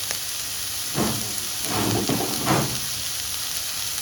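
Onion and ginger sautéing in a pan give a steady, close sizzling hiss with a few louder bursts of crackle around the middle, and no voices.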